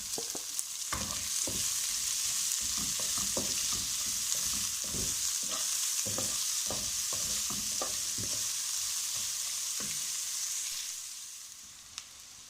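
Onions frying in a pan, a soft steady sizzle punctuated by repeated sharp scrapes and taps of a stirring spoon, fading slightly near the end, no voices.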